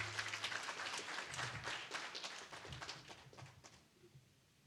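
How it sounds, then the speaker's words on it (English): An audience at an engineers' conclave valedictory session applauds the dignitaries, a dense wash of many hands clapping steadily for several seconds before thinning out. "please give a big round of applause for all our dignitaries"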